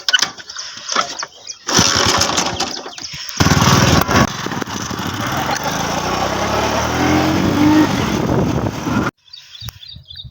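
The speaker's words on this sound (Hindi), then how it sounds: "बाइक की मारते हैं अब किक।" A motorbike in a farm setting is kick-started: a few short bursts of engine noise before it catches, then a steady running engine idles for several seconds and cuts off, with birds audible faintly in the background.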